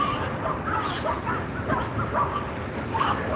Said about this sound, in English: And a bunch of doggies, a little perturbed by some people.